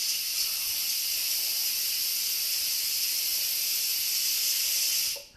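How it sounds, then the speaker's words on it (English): An Instant Pot releasing steam, a loud, steady high hiss that holds for several seconds before cutting off abruptly. "So just keep letting your steam off like this."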